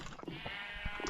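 Sheep bleating in Minecraft, one short faint bleat close by against a quiet background.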